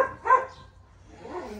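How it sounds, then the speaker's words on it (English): A dog gives a single short bark followed by a faint whine or whimper, moderately close in an outdoor garden with quiet background. "Dog's not happy."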